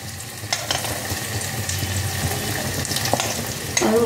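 Urad dal fries in hot oil for a tempering, a steady, close, hissing sizzle with occasional stirring clicks running throughout.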